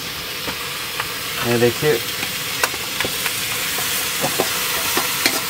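Chicken pieces stirred and frying in a pan with browned onions give a steady loud sizzle, with scraping stirs of a spoon partway through and a short spoken remark over it.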